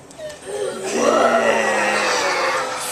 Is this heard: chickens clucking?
no